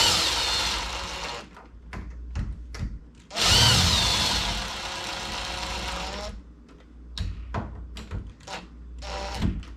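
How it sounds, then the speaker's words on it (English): Screws are driven into a Kwikset SmartKey deadbolt with a power drill, which whirs in several bursts, loudest and longest near the middle, with short clicks and handling knocks between runs. "once they're both started, then we can screw them in the rest of the way"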